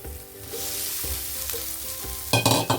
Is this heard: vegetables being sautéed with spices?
yes